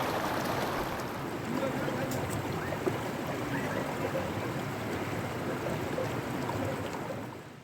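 A broad river rushes down from the hills onto the plains, a steady, loud roar of flowing water filling the scene without pause.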